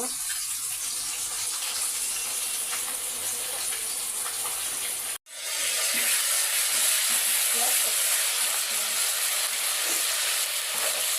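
Curry spices sautéing in a pan hiss with a steady, bright, close sizzle, broken by one brief cut before the frying noise returns as loud as before.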